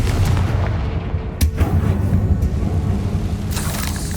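Confringo explosive spell blast in the Hogwarts Legacy video game, heavy booming impacts with sharp cracking hits over a continuous low rumble, loud and close throughout.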